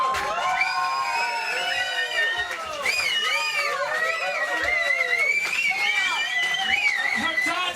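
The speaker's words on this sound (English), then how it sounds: "Can we just have a round of applause for Ida the fish?" A gig audience cheers and shouts loudly and continuously, with many overlapping whoops and yells filling the whole stretch and no distinct clapping standing out.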